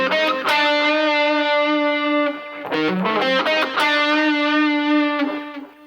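Heavily distorted electric guitar playing a song intro, with sustained overdriven notes giving way to a fast run of picked diminished arpeggio notes, then ringing again, loud and close with no talking.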